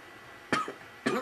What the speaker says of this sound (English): Still have a little cough